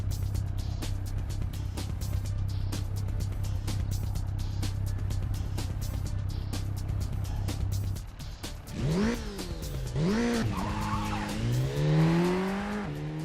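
A BMW driven in the racing simulator Assetto Corsa holds a loud, steady engine drone for about eight seconds, then revs up and down sharply through gear changes with tire squeal, and no one speaks.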